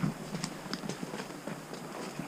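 Soft, steady clip-clop of horse hooves walking at an even pace on a hunting trail in British Columbia, fairly faint and close, with no voices.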